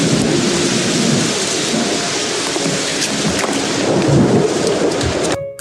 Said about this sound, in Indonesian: Dan malam itu cuaca sedang hujan.